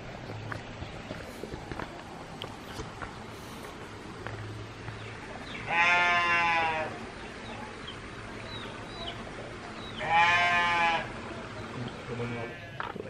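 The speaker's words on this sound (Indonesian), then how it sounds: "ada suara kambing" Two loud bleats from a nearby goat stand out over steady outdoor background noise with faint birds and distant murmuring in a village in Subang, West Java.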